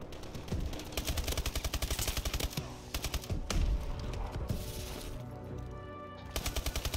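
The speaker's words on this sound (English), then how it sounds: "People just spam that window with bullets" Rapid automatic gunfire in a Call of Duty match, loud bursts of repeated shots in short stuttering strings with brief pauses and heavier blasts between.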